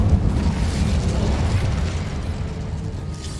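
An Incendio fire spell bursting in Hogwarts Legacy, a loud low whooshing boom that rumbles and then gradually fades over a few seconds.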